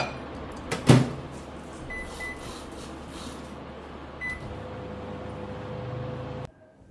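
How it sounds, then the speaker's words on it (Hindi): Leftover tadka reheating in a home oven for sandwiches gives a steady low appliance hum that runs for several seconds, with a short clunk near the start, then stops abruptly at the end. "थोड़ा सा तड़का निकाल के मैंने ओवन में पहले गरम किया है"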